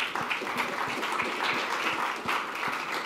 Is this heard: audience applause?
yes